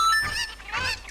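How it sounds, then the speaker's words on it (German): Cuccos, the chickens of Zelda: Ocarina of Time, squawk in two loud bursts, harsh honking cries stacked over a low game hum. "Danke, dass du meine Hühner eingesammelt hast."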